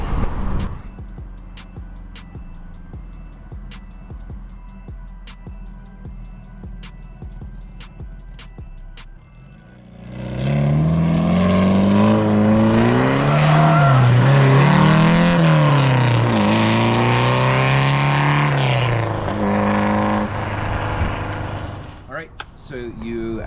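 A modified 1976 Porsche 912E engine with EFI starts after several seconds of faint ticking, then runs loud and close, revving up and down with rising and falling pitch before cutting off near the end.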